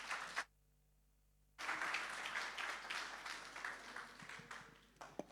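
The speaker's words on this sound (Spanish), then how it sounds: "Le damos la más cordial bienvenida con un fuerte aplauso" An audience at an international beekeeping seminar applauds to welcome a speaker, a short burst, then a brief drop to near silence before fuller clapping resumes and tapers with a few louder claps at the end.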